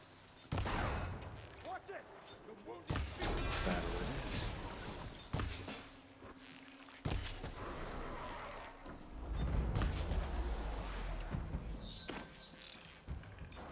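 Shooting at machines in Horizon Forbidden West makes bursts of gunfire-like impacts and crashes that come in uneven clusters, with someone talking over much of the action.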